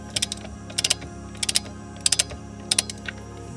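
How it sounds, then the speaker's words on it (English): A hand ratchet fitted with an M12 triple square bit clicks in short bursts of quick pawl clicks while loosening the steering wheel bolt on a Porsche 997, with brief pauses between strokes. "So this is a steering wheel bolt you need to remove."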